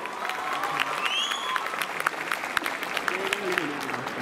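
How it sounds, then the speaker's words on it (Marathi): A crowd at an award ceremony claps steadily and fairly loudly, with scattered voices and whistles mixed into the applause. "एकदा जोरदार टाळ्या या महाविद्यालयासाठी होऊ द्या"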